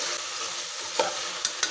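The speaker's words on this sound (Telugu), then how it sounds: "ఇది కొంచెం పచ్చివాసన వెళ్ళే వరకు ఫ్రై చేయాలి." Chicken pieces with salt, turmeric and ginger garlic paste fry in a pan, a quiet steady sizzle broken by a few short spatula clinks, with no talk.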